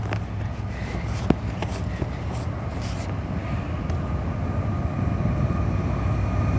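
Norfolk Southern freight train hauling J.B. Hunt containers approaching, a low, steady rumble building slowly with a few faint clicks, distant and growing louder.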